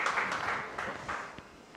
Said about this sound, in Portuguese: Palmas para ele, gente, por favor.